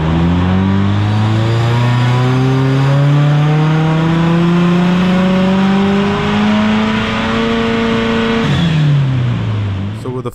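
A Subaru with a fully built motor and a Wagner top-mount intercooler revs hard on a dyno, its loud engine note climbing steadily in pitch for several seconds before dropping sharply as the throttle lifts, close and dominant.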